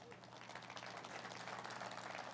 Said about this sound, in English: So a round of applause for the farmers.